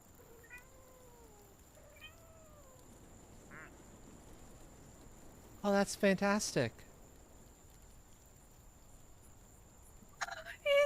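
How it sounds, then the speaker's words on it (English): Cute meowing cat noises come from a clicked cartoon kitty duck in a game, a few rising mews early on, then a loud cluster of chirpy cries midway and another burst at the end, with a person talking in between. "These adorable kitty noises from the kitty duck."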